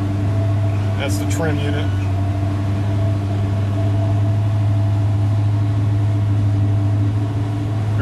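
Pursuit boat engine idling after about thirty minutes of running, a steady low droning hum throughout with a constant tonal whine; someone talks briefly over it.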